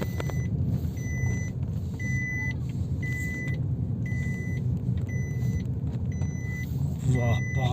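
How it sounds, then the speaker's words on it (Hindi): Busy street traffic in Thana Mandi, with cars and other vehicles passing in a steady nearby rumble, repeated electronic beeps sounding at regular intervals, and someone talking over the noise. "इस रश में से गाड़ी गुजारना भी काफ़ी दुश्वार"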